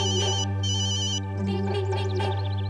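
A phone ringtone plays loud and close: a bright electronic melody in repeating bursts with short gaps, over a steady low background tone, and no voices.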